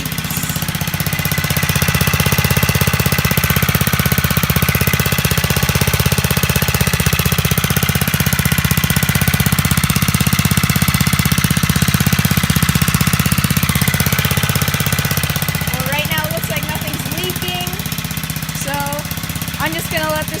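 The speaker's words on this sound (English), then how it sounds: "it started first try, it's idling, I'm having no problems as I see right now." A small engine, with its governor removed, idles in a loud, steady, rough chugging drone that holds for the whole stretch, dipping slightly near the end while someone talks over it.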